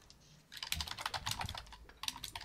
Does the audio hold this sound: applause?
no